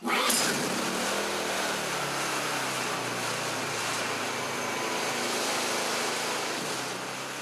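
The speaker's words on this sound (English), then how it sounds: "Pull the pull start out until you feel resistance, back in and swiftly pull the pull start." A Hyundai portable generator's small engine catches after a quick pull-start and settles into a steady, loud running drone that continues without talk.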